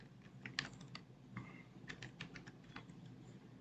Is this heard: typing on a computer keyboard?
yes